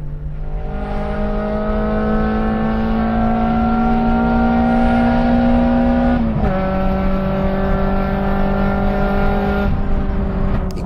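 A Renault Clio 1.8 naturally aspirated engine revs hard and steadily with a strong rising drone, briefly dipping in pitch mid-way before climbing again; loud and close.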